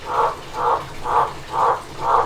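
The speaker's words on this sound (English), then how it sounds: "Really loud frog." A loud frog at a caravan park in Julia Creek, outback Queensland, croaks five times in a slow, even rhythm, close and prominent over a quiet background.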